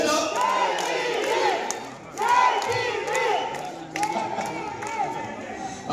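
A political crowd shouting and cheering in loud chanted bursts that swell, dip briefly and rise again, close and dense throughout.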